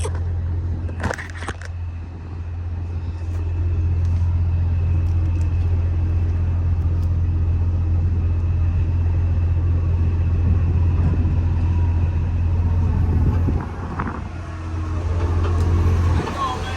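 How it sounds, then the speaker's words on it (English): A car rolls up close with a steady low engine rumble that holds for several seconds, while a person talks nearby. "he is actually heading over here with the car right now"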